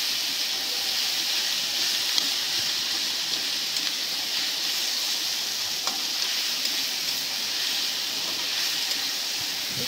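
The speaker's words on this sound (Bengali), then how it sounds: "তেলে পুরোপুরি এই রান্নাটা করা হচ্ছে।" Chicken pudina frying in oil in a pan, a dense, steady sizzle and hiss with small crackles throughout, close and continuous.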